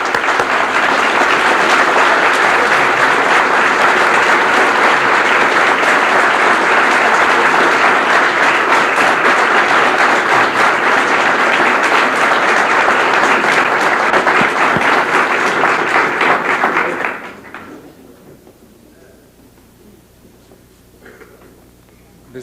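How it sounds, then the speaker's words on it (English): Audience at a Louis Farrakhan lecture giving a long, loud, dense round of applause that runs steadily for about seventeen seconds, then drops abruptly to quiet room noise with a few scattered sounds. "Let's bring him on with a warm round of applause"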